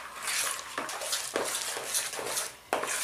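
Cake batter for German Kräbel made with condensed milk being stirred in a bowl, a steady scraping swish with a few sharper clinks of the utensil against the bowl, close and moderately loud with no talking.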